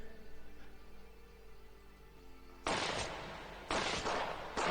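Gunfire erupts in a TV series drama scene, with three sharp bursts of shots after a quiet stretch, loud and close.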